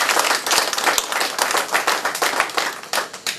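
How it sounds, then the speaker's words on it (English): Audience at a comedy show in Worthington, Minnesota, breaking into a burst of fairly close clapping that stays dense, then thins toward the end. "Give them a round of applause."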